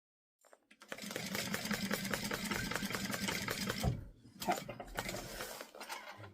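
A sewing machine running a quarter-inch seam around a fabric bag, a close, fast mechanical stitching rattle that runs steadily, stops briefly, then resumes in two shorter bursts.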